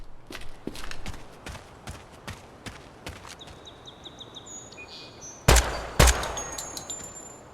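Semi-automatic rifle fire in the Project Silverfish video game, a series of sharp, evenly spaced single shots followed by a pause and two louder, closer blasts, with faint electronic tones in between.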